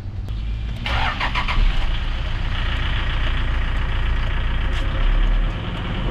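A Toyota Innova with a 2KD diesel engine, fitted with a new fuel filter and limited to about 1,000 rpm with a check-engine fault, is cranked and started, then settles into a steady, loud, close rumble.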